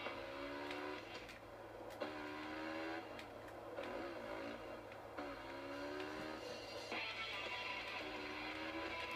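Dirt bike engine in the MX vs ATV video game, a steady buzzing motor running throughout with repeated rising rev sweeps as it climbs through gears, loud and continuous with no talk.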